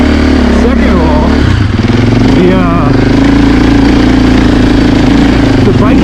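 Husqvarna FE450 dirt bike engine lugging at low revs up a hill at walking pace, a loud close chugging thump that climbs slightly in pitch, with a rider talking over it at the start.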